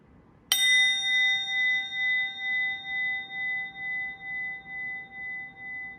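A single strike of a hand bell rings out clearly and alone, the sustained metallic tone gently pulsing as it fades away in a quiet space.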